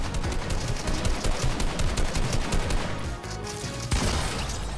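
Rapid bursts of automatic gunfire in a video game, loud and close, firing in dense repeated volleys with a brief pause before another burst.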